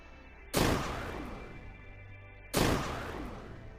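Two sharp, loud explosion blasts about two seconds apart from missile strikes in the video game Underverse, each a sudden broadband boom with a long rumbling decay.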